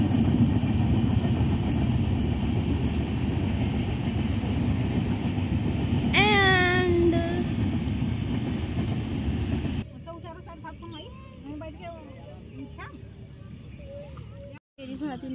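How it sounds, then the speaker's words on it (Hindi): Train rolling in with a steady broad rumble, a high squealing brake screech rising partway through, then the noise thinning into quieter clatter and faint background voices. "ट्रेन आ गई है"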